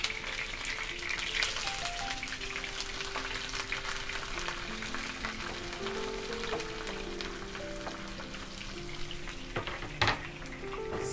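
Onions frying in a pan for fumba, a steady close sizzle and crackle running throughout with faint clinks near the end.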